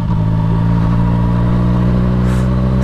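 A motorcycle engine droning steadily while riding, loud and close with a constant low hum and a faint whoosh of wind near the end.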